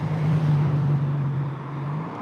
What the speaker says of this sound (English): Here's a nice car coming past now.